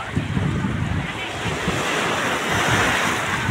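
Surf rolling in at Praia dos Carneiros beach, a continuous broad wash of waves mixed with strong wind buffeting the microphone, close and steady throughout.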